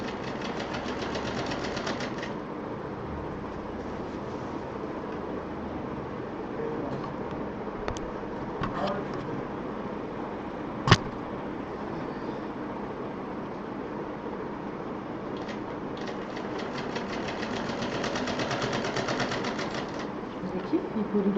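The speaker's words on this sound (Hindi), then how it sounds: "ये पूरी डोरी इसी तरह सिल जाएगी।" A sewing machine stitches a cord onto a pouch with a steady, close motor whir. Rapid needle chatter comes in bursts at the start and again near the end, and one sharp click sounds midway.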